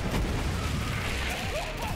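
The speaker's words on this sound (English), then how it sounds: "I can't even see him with all the explosions." Dense rolling explosions and booms fill a Borderlands 3 firefight, a continuous loud wash of blasts and crashes with no break.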